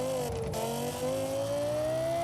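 Lexus LFA with its Yamaha-developed engine revs hard in Forza Horizon 4, giving a loud, smooth, high-pitched wail that climbs steadily in pitch, close and continuous.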